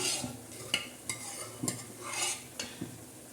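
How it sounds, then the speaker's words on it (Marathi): Squid goes into a pan of cooking masala, giving a soft background sizzle with a few sharp utensil scrapes and clinks against the pan at irregular intervals, close by and with no voices. "आता आपण टाकणार ती मखली"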